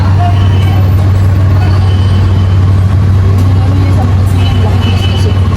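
Road traffic heard from a motorcycle stuck in a jam on the way to Tagaytay, a loud steady engine drone and roar of nearby buses and trucks with a hint of air brakes, voices murmuring underneath.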